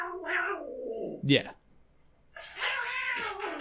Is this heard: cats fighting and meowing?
yes